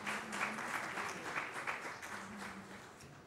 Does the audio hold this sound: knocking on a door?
no